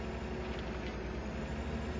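Steady low drone of a tractor engine pulling a cultivator across a terraced field in Farming Simulator 15, a constant rumbling hum at moderate level with no talking.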